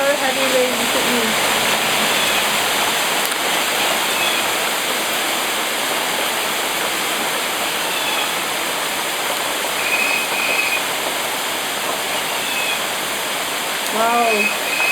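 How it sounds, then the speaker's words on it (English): Very heavy rain pours down in a steady, loud roar during a Sydney thunderstorm that briefly brought hail, heard from a balcony overlooking a flooded road, with faint voices in the background. "It's very heavy rain. Very heavy rain in Sydney."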